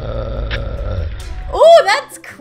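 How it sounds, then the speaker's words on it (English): One long, low, rumbling burp drags on for over a second, loud and close, before cutting off into a sharp, higher voiced outburst. "was that one long continuous burp?"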